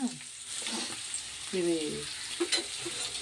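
Chana dal and curry leaves frying in hot oil give a soft, steady sizzle while being stirred, fairly faint, with someone talking over it.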